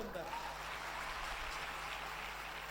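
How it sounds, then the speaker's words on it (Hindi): Sustained applause from an audience at the Kalyani 2025 women's event in India, a dense, steady wash of many hands clapping throughout, with voices faintly mixed underneath. "एक दीदी ने कहा कि अपने लिए भी तालियां बजाओ"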